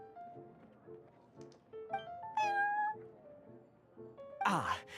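A cat meows in the Genshin Impact video game at the Cat's Tail, two clear meows, one mid-way and a louder one near the end, over soft, gentle background music.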